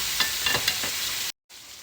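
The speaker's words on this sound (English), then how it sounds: "I sear my steaks in pork fat, which is bacon grease. Get a real good sear on both sides." A steak sears in bacon grease in a pan, giving a steady, loud sizzle with a few crackling pops. The sound cuts out completely for a moment, then comes back.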